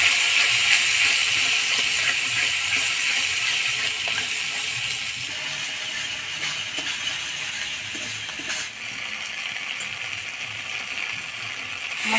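A ground spice paste with turmeric and salt sautés in hot oil for koi fish curry, giving a loud, constant hissing sizzle that holds steady throughout with only slight dips and no talking.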